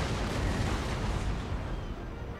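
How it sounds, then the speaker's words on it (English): Ship cannons firing in a naval battle video game: a dense, continuous rumble of overlapping booms and blasts, loud and sustained throughout with no clear gaps between shots. "we're really just focusing cannon fire on him right now"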